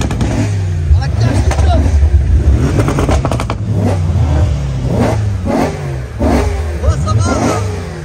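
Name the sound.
naturally aspirated V8 car engine revving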